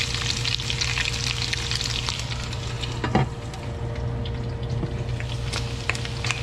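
Pork belly for Filipino braised pork sizzles and browns in a pan, a steady dense crackle of frying that runs the whole time with small pops and one brief louder scrape of stirring near the middle.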